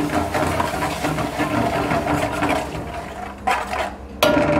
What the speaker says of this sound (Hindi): ये देखिए ऐसे डालें और आपने इसको हल्का सा ऐसे भून लेना है